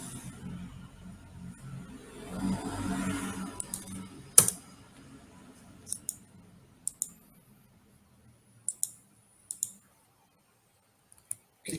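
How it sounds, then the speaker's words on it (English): Sparse, crisp clicks of a computer keyboard and mouse, widely spaced single and paired taps in a quiet room as a password is entered and login is clicked. "We type the password and login."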